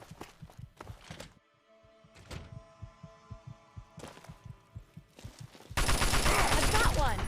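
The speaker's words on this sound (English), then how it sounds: "Oh, I hear shooting." Gunfire in Fallout 3 and New Vegas, a series of evenly spaced muffled thumping shots, fairly distant, ending in a louder burst of harsh noise.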